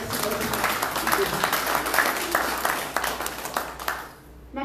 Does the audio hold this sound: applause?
yes